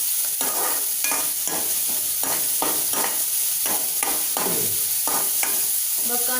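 Onions frying in a pan while being stirred, a continuous hiss of sizzling oil with repeated scraping strokes of a spoon at a steady rhythm, close and loud.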